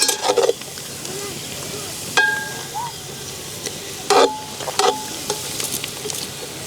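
Onions fry in hot oil with whole spices such as stone flower and cinnamon for a boti curry. A close, steady sizzle runs throughout, and sharp spoon scrapes and clinks against the pan come in a few bursts.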